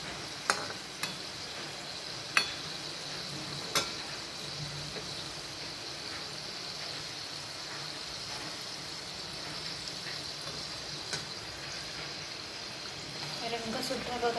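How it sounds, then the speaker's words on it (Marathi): Modak dumplings frying in hot oil, a soft steady sizzle with occasional sharp pops and crackles, fairly faint and close. "अशाच प्रकारे आपल्याला हे मोदक तळून घ्यायचे आहे."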